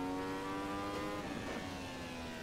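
Ferrari 312T race car engine in Assetto Corsa holding a loud, steady high-pitched rev with strong harmonic whine throughout, a close continuous drone with no talk.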